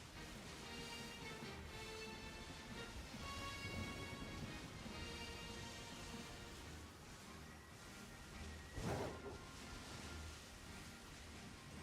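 Steady rain hisses through a Pokémon game scene, a dense even wash of falling water with a brief louder crackle near the end, with no talking over it.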